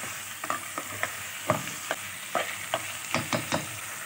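Mutton pieces fry with onions in a pan for palak gosht, with a soft sizzle under repeated spatula scrapes and taps at an uneven, unhurried rhythm.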